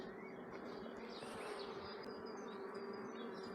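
Honeybees buzz around a hive frame of eggs and larvae held out during beekeeping, a close, continuous droning hum with individual bees rising and fading, no voices.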